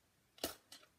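Scissors snipping through gold foil paper for a stamped card kit, two quick crisp cuts close by with a short pause between, no talking.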